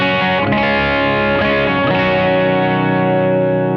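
Distorted electric guitar through a SansAmp and a Pod on its Matchless Chieftain setting, both combined. Sustained chords ring loud and thick, with a few strums early on, then a long decaying chord.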